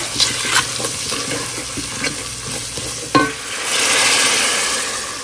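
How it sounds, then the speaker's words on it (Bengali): Spices sizzle in hot oil in a pan for Sylheti beef with shatkora while a utensil scrapes and stirs in irregular strokes, with a louder clatter partway through. "মশলা একটু ভাজা হোক, তেল উপরে আসুক"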